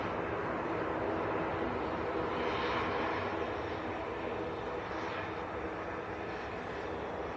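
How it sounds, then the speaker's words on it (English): A NetJets Cessna Citation business jet on final approach at Manchester Airport, heard as a steady, fairly loud broadband engine roar that holds evenly throughout with no talk. "We've got the other NetJets citation on finals as well"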